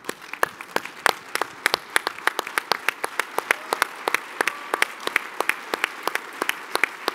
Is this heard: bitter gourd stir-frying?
no